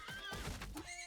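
A horse in a video game gives one loud, close whinny that lasts about a second and rises and falls in pitch, with a low thud under it.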